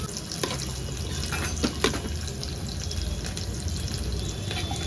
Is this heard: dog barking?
no